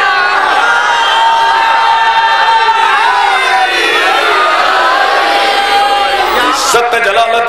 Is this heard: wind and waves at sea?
no